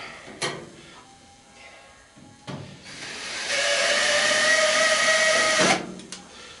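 Phillips head screws being backed out of an old clothes dryer during scrapping, a few sharp metallic clicks and taps followed by a sustained hissing, whirring stretch from a driver, close and fairly loud, no talking.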